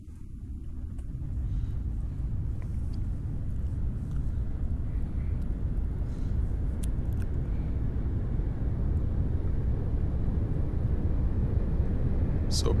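A Mirage 2000C jet in the DCS World flight simulator takes off and climbs, its engine a steady, loud, broad roar that swells after the first second and holds unbroken, with brief faint clicks.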